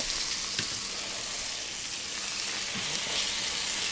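Onions cooking in butter and flour for broccoli cheese soup give off a steady, dense sizzle, close and even throughout, with a couple of faint utensil taps and no talking.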